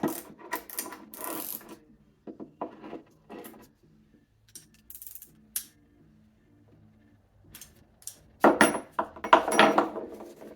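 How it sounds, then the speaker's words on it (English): Wrench ratcheting while a JAWA 350 barn-find motorcycle is taken apart, bursts of quick metallic clicking separated by pauses, with a dense flurry of ratchet and tool clatter near the end. "Take our wrench off."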